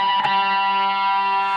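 Pinch harmonic on a cigar box guitar, the thumb catching the strings as they are picked: one sharp attack followed by a sustained, bright, distorted ringing tone that holds steady and close for over a second.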